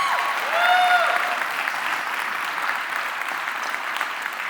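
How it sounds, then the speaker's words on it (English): Audience applause during a live debate event, a broad continuous clapping from a large crowd, steady and moderately loud, with a brief whistle-like tone near the start. "Yes, applause for FIRE."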